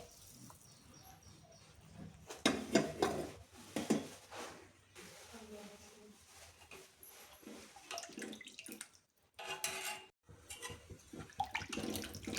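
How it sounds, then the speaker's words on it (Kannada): Water left from boiling horse gram is poured into a pot of sambar, giving an uneven close splashing pour that comes in bursts and briefly stops before resuming. "ಆವಾಗಲೇ ಹುರುಳಿಕಾಳು ಬೇಯಿಸಿದಾಗ ಅದು ಬಂದಿದ್ದ ನೀರನ್ನ ಇದಕ್ಕೆ ಹಾಕ್ತಾಯಿದ್ದೀನಿ ಇವಾಗ"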